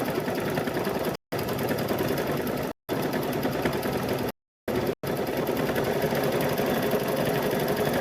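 A sewing machine quilting a patchwork gnome quilt, running in a loud, steady, close whir, stopping briefly three times before continuing.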